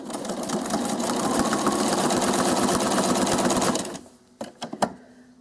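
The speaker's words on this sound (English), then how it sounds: "I'm going to stitch with a long basting stitch for about 5 or 6 inches" A sewing machine runs a long basting stitch through a quilt binding in one continuous rapid whirring run, then stops, followed by a few soft clicks and handling sounds.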